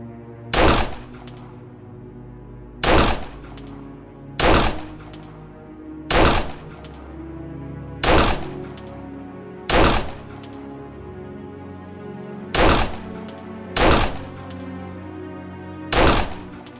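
Single gunshots at a shooting range in the video game Art of Murder: Cards of Destiny, nine sharp, loud reports spaced about one and a half to two seconds apart over a quiet ambient background.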